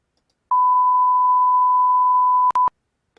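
A steady 1 kHz test tone, sampled at 48 kHz and played back at 96 kHz, holds loud and constant for about two seconds, then breaks off and ends with a short second burst. No voices.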